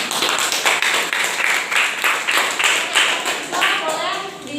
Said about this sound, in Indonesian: Kita kasih aplaus dulu untuk kelompok 2 dong.